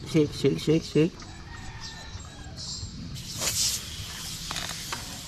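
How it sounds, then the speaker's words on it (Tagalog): Tire foam cleaner sprayed from an aerosol can onto a motorcycle tire, a couple of short hissing bursts following some brief talk, fairly close and moderately loud. "Spray na lang natin after shake."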